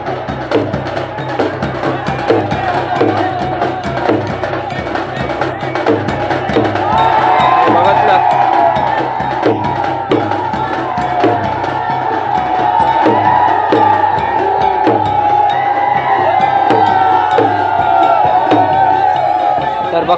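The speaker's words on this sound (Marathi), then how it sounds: "भक्तजन भाविक इथे मोठ्या संख्येने इथे जल्लोष करत आहेत" Devotees crowd the Durga Devi festival procession in Anjarle, raising loud cheers and shouts over a dense hubbub, with sharp percussive hits and voices swelling toward the middle and staying energetic to the end.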